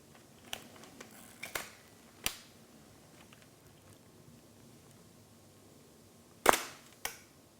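Mechanical camera shutter firing on a Fujifilm GFX body with an adapted Bronica ETR lens set to f11: a sharp click around 6.5 seconds and a second lighter click just after, with small handling ticks earlier in an otherwise quiet room.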